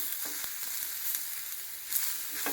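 Brinjal sautéing in hot coconut oil in a pan, a steady close sizzle and crackle with faint stirring scrapes, no voices.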